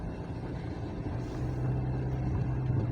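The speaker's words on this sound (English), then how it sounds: "That's why you can hear the car is roaring like that." Car engine roaring under load while climbing a steep ascent on a road through Gikomo slum in Mweiga, a steady low rumbling drone that grows slightly louder, heard from inside the vehicle.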